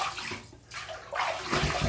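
Water runs and splashes while a razor and face are rinsed mid-shave during a wet shave, a steady close wash with a brief lull before it picks up again.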